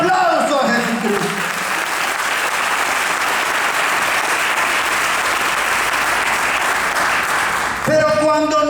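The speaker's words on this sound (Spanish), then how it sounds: "Alguien da un aplauso a Jesucristo." Sustained, loud clapping from a church congregation fills nearly nine seconds in a dense, even wash, then gives way to a voice speaking at the end.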